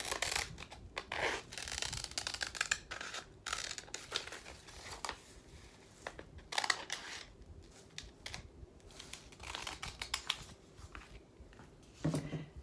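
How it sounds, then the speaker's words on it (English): Scissors snip steadily through transfer paper for a craft piece, a dense run of crisp cuts mixed with paper crinkling and rustling close up, with no talking. "now I'm going to take the scissors and cut this one apart"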